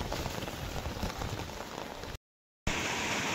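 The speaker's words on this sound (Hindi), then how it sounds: "भयंकर बारिश देख लो यार, आज ये फील्ड पूरा भर गया भाई, इतनी तगड़ी बारिश।" Heavy rain pours steadily onto an open field, a loud, dense, continuous hiss that cuts out briefly near the end and then resumes at full strength.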